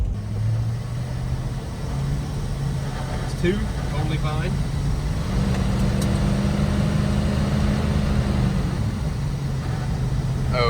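A Plymouth Barracuda on the road after sitting forgotten for 27 years, with a steady low engine drone and a slight rise in pitch partway through, heard from inside the car under brief conversation.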